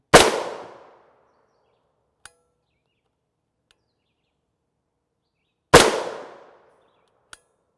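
Two sharp gunshots a few seconds apart, SS-198 5.7 rounds fired at HWin NIJ Level IIIA soft armor. Each loud crack decays quickly, and a faint click or impact follows it, with silence between.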